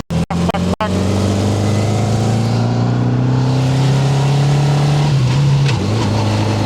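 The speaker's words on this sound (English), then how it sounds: "I've just fucking clutch dumped it into third." A motorcycle engine with a slipping, worn-out clutch revs hard and loud and close, holding a strained, droning note that wavers and dips near the end after a few sharp cut-outs at the start.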